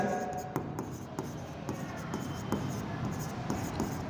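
A pen scratching out accounting notes on paper during a commerce lesson, steady close rubbing strokes with a continuous texture over faint room noise.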